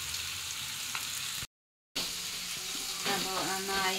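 Three large onions, cut in fairly big pieces, frying in hot oil, giving a steady close sizzle with stirring scrapes, briefly cut off then resuming louder.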